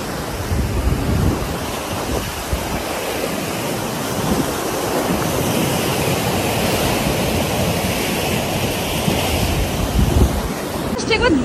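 Sea waves washing onto the sandy beach at Mandarmani, a continuous loud roar of surf mixed with heavy wind buffeting the microphone, steady throughout with no clear talk.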